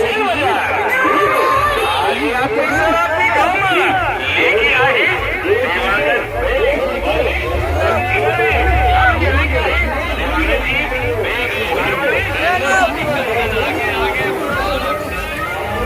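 A dense crowd fills the Kartikeshwar fair at Bojiya, Chhal, a loud continuous babble of many voices with children's shouts rising out of it and nearby people chattering throughout.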